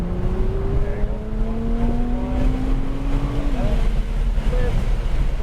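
A sports car engine accelerates on a track at a driving experience event, rising in a steady, loud drone that pulls upward in pitch before a brief dip, heard close from inside the car.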